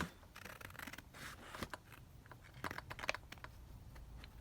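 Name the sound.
scissors cutting through lace on a paper board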